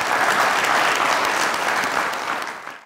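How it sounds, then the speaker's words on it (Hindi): An audience at a comedy and poetry show breaks into dense, steady applause that holds strong for a couple of seconds and then fades away, with no talking over it. "तालियां, वाह"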